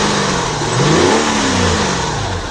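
A Nissan Cefiro engine, just started after hard starting, revs up loudly and close, pitch sweeping up and settling back toward idle in one smooth rise and fall, with no talking.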